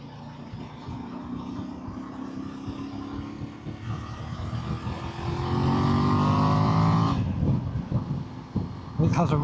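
A Voge DS800X Rally motorcycle engine revs up, its drone climbing in pitch and growing louder while riding, with wind buffeting the microphone, then it eases off near the end.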